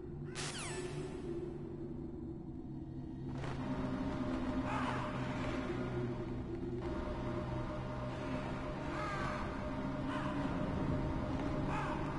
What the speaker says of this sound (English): What the hell are all these crows doing around here?